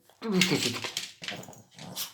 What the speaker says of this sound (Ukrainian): Ну що це за собака така?